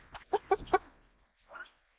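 Young hens cluck in a coop, a quick run of four close, fairly loud clucks followed by a softer pair of calls after a short pause.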